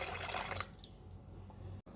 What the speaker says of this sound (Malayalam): ഇനി ഇതിനകത്തോട്ട് വെള്ളം ഒഴിക്കുകയാണ്